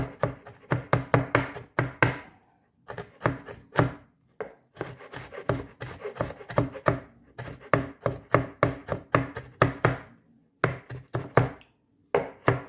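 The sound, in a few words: chopping ginger and green chillies with a knife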